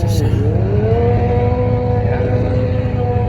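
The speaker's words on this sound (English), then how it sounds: "This car, if you don't know, is turbocharged, 6-liter LS" A turbocharged 6-liter LS engine in a GT45 junkyard car drones loudly and steadily at a held rev, with a brief swoop in pitch near the start, close and continuous.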